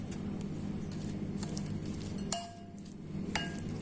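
Chilli garlic chutney being mixed in a bowl with a spoon, giving soft scraping patter and a few sharp clinks of metal against the dish, close up.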